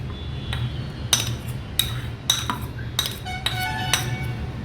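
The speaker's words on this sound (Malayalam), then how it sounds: "അത് നമ്മൾ ഒരു മിക്സിയുടെ ചെറിയ ജാറിലേക്ക് ട്രാൻസ്ഫർ ചെയ്യണം." Grated coconut tipped from a dish into a small mixer jar with a spoon, heard as a series of sharp metallic clinks and taps against metal, about half a dozen irregular strikes over a low kitchen hum.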